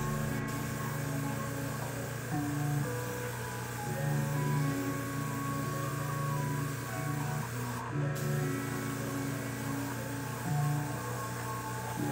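A steady hissing spray, spray-painting a sanded 3D-printed helmet, runs continuously with a low ventilation hum underneath, even and unbroken for the whole stretch, no voices.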